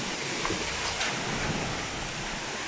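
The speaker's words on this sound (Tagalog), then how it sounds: "Ang lakas ng hangin sa labas." Strong typhoon wind roars in a continuous broadband rush, gusting slightly, with no voices.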